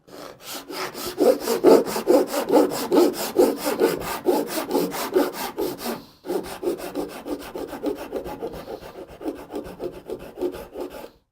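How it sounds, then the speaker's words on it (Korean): A hand saw cuts wood for a furniture joint in steady, rhythmic back-and-forth strokes, close and loud, with a brief pause midway before the sawing resumes. "선을 보일랑 말랑하게 이렇게 이렇게 맞춰갖고 톱질을 합니다"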